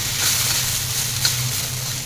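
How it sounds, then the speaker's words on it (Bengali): Potato slices frying in a pan give off a steady, close sizzle with a continuous hiss that holds even throughout, no voices over it. "আর এদিকে আলু ভাজাটা পড়ে যাচ্ছে"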